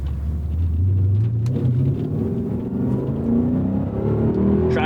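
A 2002 BMW M5 E39 engine revs up in rising sweeps, the loud throaty drone climbing in pitch, dropping briefly and then climbing again, with no talking.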